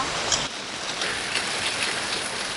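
Dense, steady rain pours down at a street food stall in Malaysia, hissing over surfaces with a constant wash of drops and occasional louder patters, close and loud, no voices.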